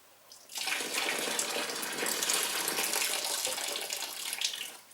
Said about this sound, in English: what I'm going to do now is pour the rest of the water in